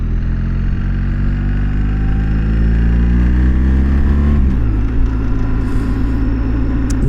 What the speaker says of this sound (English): the engine noise is different than the older Boxers